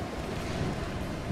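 Steady wind gusts roar across an exposed high place in Tomb Raider, a continuous broadband rush with no clear breaks, fairly loud and close.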